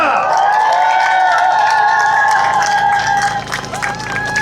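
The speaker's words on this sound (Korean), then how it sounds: "힘찬 격려의 박수" At a Korean election campaign launch rally, a large crowd breaks into loud applause and cheering, with clapping mixed with shouts and whistles that fade a little near the end.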